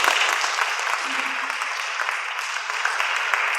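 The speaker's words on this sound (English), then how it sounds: "If we could just clap again." An audience applauds inside the George Washington Carver Museum at an evening literary event, steady dense clapping that holds loud and even throughout, with a voice faintly under it.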